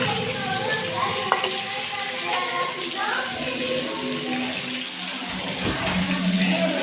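Onions sautéing with salt in a pan for chicken curry give a steady sizzle and frying hiss throughout, with occasional stirring scrapes and a continuous background hum.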